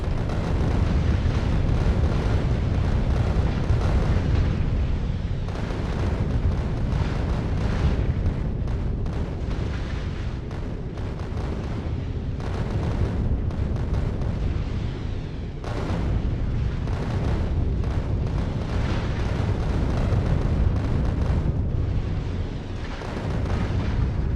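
Rockets fire and explode over and over in the factory game Factorio, a dense, loud barrage of booms and blasts that goes on the whole time with hardly a pause.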